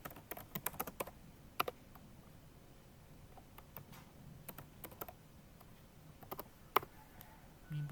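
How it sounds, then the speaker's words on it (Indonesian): Fingers type on a cheap rubber membrane computer keyboard, soft irregular clusters of close keystrokes with short pauses between bursts. "Membran keyboard."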